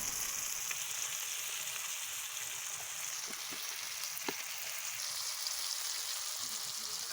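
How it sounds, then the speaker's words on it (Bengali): Onions sprinkled with salt fry in a pan, giving a steady, close sizzle with a few sharp crackles and pops scattered through it. No voices. "এটা একটু ভেজে নিতে হবে ভালো করে।"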